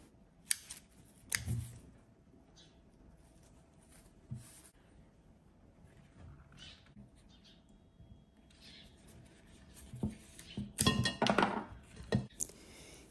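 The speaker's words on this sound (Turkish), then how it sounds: "Hemen çiçek dallarını kesiyorum." Scissors snip through orchid flower stems, with a few sharp crisp cuts spread out and a louder cluster of clipping and rustling near the end, heard close up in a quiet room.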